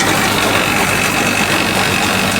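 A tractor engine drives a black gram threshing machine on a farm, a loud, steady mechanical roar with continuous rumbling and rattling vibration, close and unbroken, with no talk.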